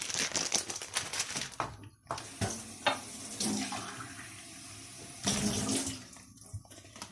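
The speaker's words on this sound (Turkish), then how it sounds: "Bir paket iki bardak suyumu ekliyorum." Two glasses of water splash and gurgle as they are poured into a pot in two separate streams for instant noodles, with clattering and rustling in between.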